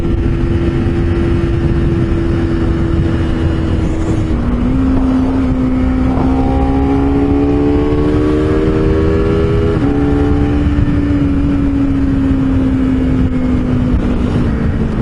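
A Honda CBR250RR with a 250cc liquid-cooled parallel-twin engine hums steadily while riding, its tone dipping and climbing through a couple of gear changes, with constant wind noise.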